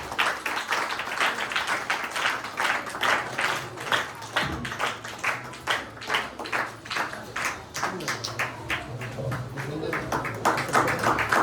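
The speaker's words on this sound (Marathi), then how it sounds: "जोरदार टाळ्या बोलूया." An audience claps steadily at a Guru Purnima celebration in a Sateri temple after the ceremonial lamp lighting, with sharp, dense claps sustained throughout and a voice speaking over them.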